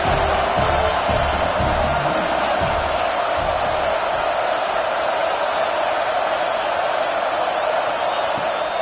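A steady wash of stadium crowd noise roars throughout a College Football 26 game on PS5 during a fourth-down defensive stand, a continuous loud cheering bed with faint commentary-like voices underneath.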